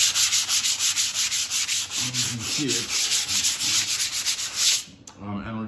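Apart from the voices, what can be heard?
sanding filled wall before lining paper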